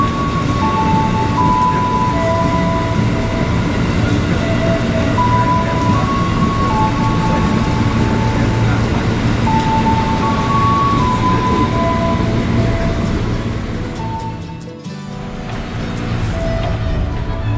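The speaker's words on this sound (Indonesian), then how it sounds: "Saatnya KRL diberangkatkan dari stasiun Rangkas Bitung menuju ke tujuan akhir, yaitu stasiun Serpong." A KRL commuter train at Rangkas Bitung station at night, a steady low rumble of the electric train with intermittent tonal whines and a voice speaking over it.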